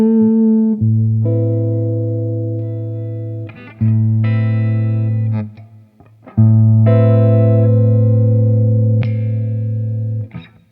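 Electric guitar, a Yamaha Revstar on the neck pickup, plays a warm, rounded lick three times, with sustained notes and quick runs, each phrase ringing out before the next begins.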